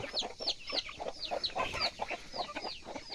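Several chickens cluck and squawk in the early morning, a busy overlapping stream of sharp repeated calls, some close and some farther off, with no speech.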